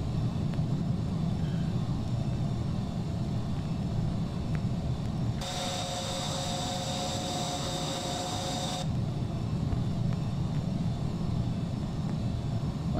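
An airplane on landing approach in the Prepar3D v4.5 flight simulator gives a steady, loud engine drone throughout, with a bright tonal whine added for a few seconds in the middle.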